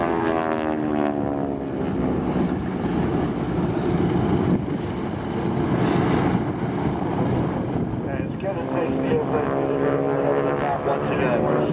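A WWII-era airplane's 1,000 horsepower piston engine runs at an airshow, a loud, steady, throbbing propeller drone that holds for the whole stretch with wind rushing across the microphone.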